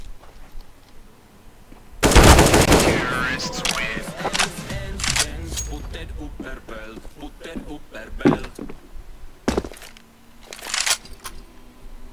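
Gunfire from a Counter-Strike: Global Offensive match: a loud burst of shots opens after a quiet start, followed by scattered single and clustered reports through the rest, with voices talking in between.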